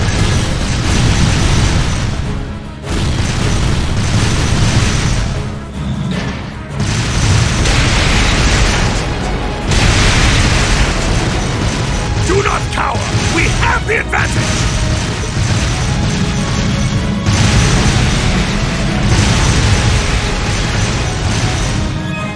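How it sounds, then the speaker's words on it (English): Artillery barrage in the video game Trails of Cold Steel II: heavy booms and bursts roll almost continuously, with mechanical clatter and voices mixed in throughout. "Left flank, fire a barrage to cover your retreat!"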